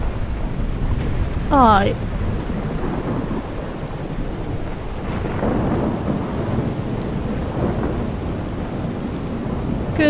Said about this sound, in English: I think we just wait out the storm down here,